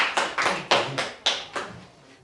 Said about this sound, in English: You can clap hands for Purity Mudede.